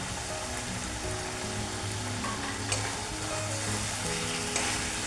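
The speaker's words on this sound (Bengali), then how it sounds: "তেলটা ছেড়ে দিয়েছে, দিয়ে দিলাম একটা মিডিয়াম সাইজ টমেটো।" A medium-size tomato fries in hot oil with spices, producing a dense, even sizzle that sounds almost like steady rain, close and continuous with a couple of soft knocks, and no one speaking.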